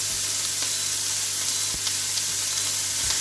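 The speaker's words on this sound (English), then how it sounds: "So I'm going to put in the red and the white onion." Red and white onions frying in a pan give a continuous even sizzle, close and fairly loud, with a few faint stirring taps and a low steady hum underneath.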